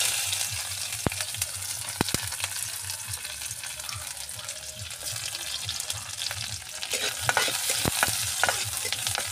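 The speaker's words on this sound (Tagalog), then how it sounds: "Igisa sa nato ang mga lamas." Spices sautéed in oil in a pan for a dish with bitter gourd, sizzling steadily up close while a utensil stirs and taps against the pan at irregular intervals.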